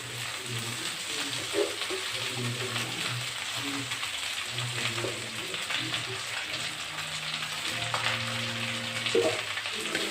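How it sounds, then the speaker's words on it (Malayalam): Drumstick leaves frying with egg for a thoran are stirred in a pan, a soft background sizzle under intermittent clicking, rattling scrapes of the spoon, fairly faint and close, no talk. "ഇനി ഇത് നന്നായിട്ടൊന്ന് ഇളക്കി മുരിങ്ങയില ഒന്ന് വാടുന്നതിന് വരെ ഇളക്കി കൊടുക്കാം കേട്ടോ."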